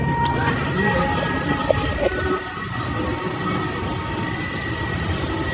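Train passing at Sentosa, Singapore: steady rumbling rail noise with a few clanks and faint whining tones, fairly close, with some background chatter.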